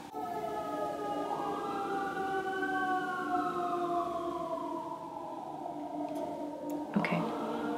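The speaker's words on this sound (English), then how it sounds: "Constant sirens." Sirens wail outside during a quiet indoor evening, a long rising and falling tone that swells and fades steadily over several seconds, then a brief louder burst near the end, distant but continuous.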